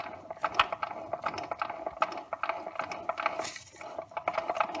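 A BMW E46 M3's original clutch fork pin makes a faint, rapid grinding and clicking, like a ratcheting mechanism, as irregular metallic ticks repeat steadily for several seconds.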